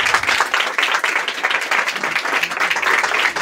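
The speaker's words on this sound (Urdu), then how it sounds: "ہم خدا کے خادم کو اور خدا کے کلام کو تالیوں کے ساتھ ویلکم کریں گے" A church congregation applauds to welcome the preacher, a dense, steady wash of many hands clapping at once, loud and sustained with no break.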